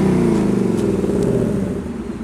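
A 2018 Ford Mustang GT V8 with active exhaust in quiet mode, a single short rev that swells loudly and then settles back toward idle, close by, with no talking.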